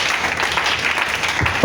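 A church congregation applauds for Jesus, a dense, continuous wash of many hands clapping together, loud and sustained with no talking over it.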